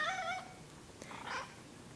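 An orange striped cat gives a couple of short, soft meows in a quiet indoor room, heard alone and fairly close.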